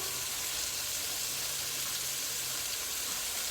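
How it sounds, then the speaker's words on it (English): Running water from a tap hissing steadily onto a chopping board being rinsed, a constant broadband rush with no pauses and no talking. "I'm gonna rinse out my chopping board"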